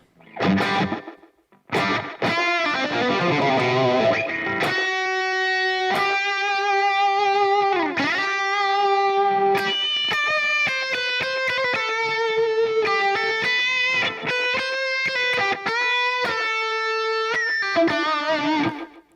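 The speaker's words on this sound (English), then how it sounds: "Let's have a little listen to the short slapback" An electric guitar with a gritty, distorted tone plays a busy run of notes and chords through a short slapback delay, each note carrying a quick short echo right behind it.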